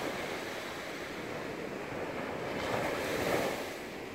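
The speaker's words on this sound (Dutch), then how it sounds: "er komt nog een heel mooi golfje aan" Ocean waves roll in and break on a hazy beach in a continuous, wide wash of surf that swells slightly louder toward the end, with a little wind noise and no voices.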